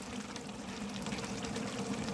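Water being poured into a large pot for a 6 kg mutton biryani, a short, faint, continuous splashing pour with no talking.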